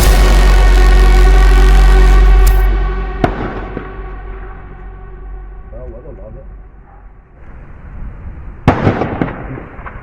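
Gunfire from a machine gun and shotgun in a shootout with police in a neighbourhood, one loud close blast at the start then scattered sharp distant cracks and a final burst.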